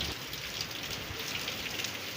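Heavy rain falls in a dense, steady hiss with no breaks, loud and continuous throughout.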